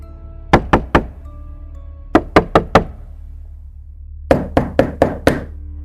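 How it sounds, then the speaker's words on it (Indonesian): Knocking on a door in three separate bursts: three knocks, then four, then five, each sharp and hollow against a quiet room, with no talking. "Tiba-tiba terdengar suara ketukan itu lagi."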